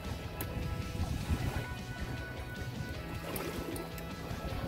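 Water sloshes and gurgles against the hull of a small fishing boat on a choppy sea, a close, continuous churning wash with no talk.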